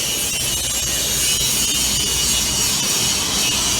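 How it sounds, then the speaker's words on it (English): A CNC plasma table cutting metal gives off a steady, loud, hissing roar that holds evenly with no pauses. "That's that CNC Plasma doing that, guys."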